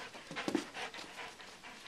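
A pet dog pants close by in quick, breathy, rhythmic puffs, with a brief soft whine in the middle and no talking.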